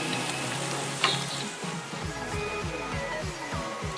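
Chicken and egg nargisi koftas frying in hot oil, a dense close sizzle with a sharp clatter near the start, then rhythmic low knocks as the pieces are handled.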